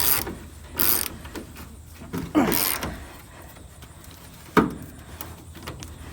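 A socket wrench ratchets while loosening engine bolts on a VW Bus, a few short clicking bursts close by, separated by quieter gaps.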